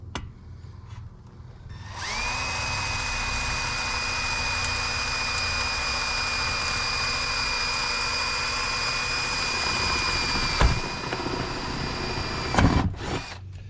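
A power drill with a 3/32 bit bores a small pilot hole for folding RV solar panel legs, a steady close high whine running continuously for about nine seconds before stopping, followed by a couple of knocks.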